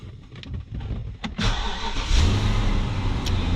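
A BMW 745i V8 cranks over and fires up after a fuel pump replacement, catching on the second attempt and settling into a steady, loud idle close by.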